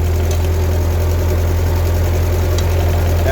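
A Ford 2N tractor idles with a steady low engine drone while its worn hydraulic pump chatters with the lift lever down, a loud, continuous rumble close by with no voices.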